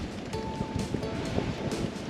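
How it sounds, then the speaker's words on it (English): Steady, blustery wind roars across an open microphone while sailing from Boston to Provincetown, with rushing water and surf-like wash beneath it; no voices. "It's really windy, it's chillier"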